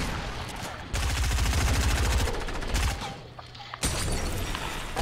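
Shotgun fire in the video game Fortnite: loud, close blasts in dense repeated bursts, pausing briefly before another volley starts up.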